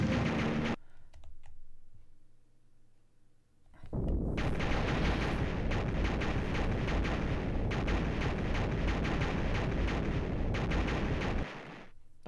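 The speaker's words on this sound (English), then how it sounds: "This place is going to explode." An explosion in the video game Tail Concerto bursts in as a loud, dense roaring blast after a short quieter stretch and rumbles on for several seconds before dropping away.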